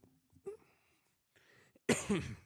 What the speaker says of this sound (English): I'm going to apologize for all the coughing I'm going to do tonight